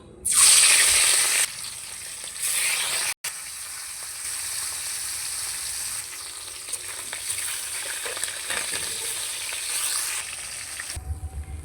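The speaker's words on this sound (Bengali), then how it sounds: "প্রথমে মাছটা ভেজে নেব" Fish fries in hot oil with a loud sizzling burst at first, then a steady, close crackle that carries on for several seconds.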